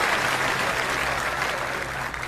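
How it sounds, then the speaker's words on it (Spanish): A church congregation claps in a steady, full wash of applause, sustained and fairly even before easing off slightly near the end, with no voices over it. "Que alguien aplauda si lo cree"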